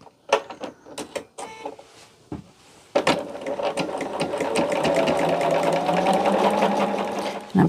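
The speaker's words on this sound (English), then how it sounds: "now we are going to sew the correct side" Sewing machine stitching a seam on a small quilted project, starting with scattered clicks and short stitch bursts, then running in a steady, close, rapid mechanical chatter for the last several seconds.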